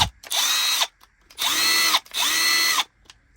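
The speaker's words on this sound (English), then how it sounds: "Back to sounding like a regular impact." Cleaned Milwaukee M12 impact driver running in three loud, close bursts of whirring and hammering, each about a second long with short silent gaps between.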